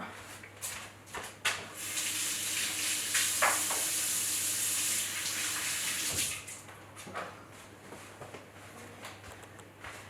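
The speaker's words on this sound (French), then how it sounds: "je vais laver mes mains" Hands are washed under a running kitchen tap partway through cooking: a soft rush of flowing water swells for a few seconds in the middle, framed by quiet clicks and knocks.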